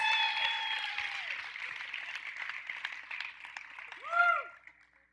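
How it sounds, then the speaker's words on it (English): A church audience applauds and cheers in a moderate wash of clapping that fades over several seconds, with some voices and a short whooping cry near the end. "Everybody give her a round of applause."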